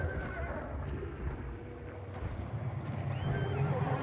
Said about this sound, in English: that horse is crying because of that goddamn meathead